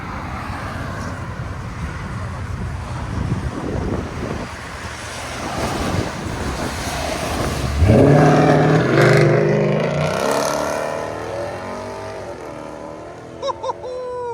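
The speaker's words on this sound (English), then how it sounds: "just enough so we can hear the exhaust breathe" A Mercedes SL 550 5.5L V8 revs up sharply, its exhaust rising in pitch and roaring loudly over steady wind noise, then settling back down.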